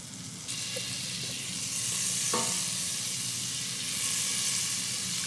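Butter, four tablespoons, melts in a hot pan with a steady, close sizzle and frying hiss that rises after the first half second, with a brief stir or scrape partway through and no talking.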